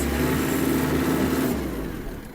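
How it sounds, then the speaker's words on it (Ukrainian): A Kubota L1-325 Hi Speed mini tractor engine runs steadily and loud, close by, while shifted into reverse; the engine note softens slightly after about a second and a half. "зверніть увагу, як чітко і точно перемикається реверс"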